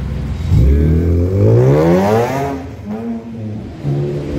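A race car engine at Spa-Francorchamps revs hard up close, its pitch climbing loudly before dropping back and rising again.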